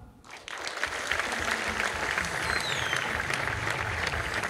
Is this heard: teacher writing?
no